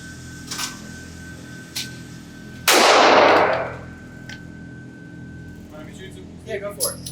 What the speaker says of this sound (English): put another 15 rounds through this gun, and I'm going to aim for the head on this IDPA target